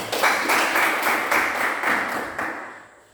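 Students in a classroom clap together after a group presentation, striking in a loose shared rhythm of about four claps per second. The clapping is fairly loud and close, then fades away over the last half second.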